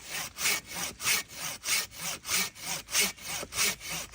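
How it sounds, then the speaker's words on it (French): A hand saw cuts through a mature magnolia branch outdoors in steady, even back-and-forth strokes, about three per second, each a loud rasping rub close by with no talk. "Je veux juste aller couper la branche."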